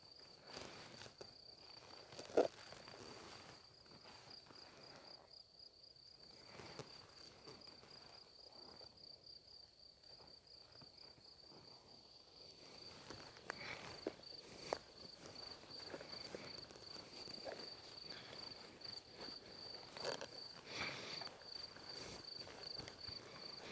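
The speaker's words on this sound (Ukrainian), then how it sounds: "Цвіркуни лиш цвіркочуть" Crickets chirp in a steady, high-pitched trill that carries through the whole stretch, with faint footsteps and rustling outdoors underneath.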